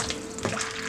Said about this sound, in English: I'm just going to add some warm water to that.